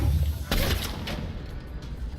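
Gunfire in the Mass Effect 3 video game: a few sharp shots in quick succession, with bursts near the start and middle before fading into a softer rumble.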